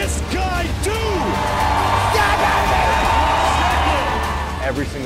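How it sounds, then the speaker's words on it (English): At a fitness competition, a packed indoor crowd screams, whoops and cheers loudly and continuously, with yells and some clapping mixed into the roar. "Every single person in here is screaming."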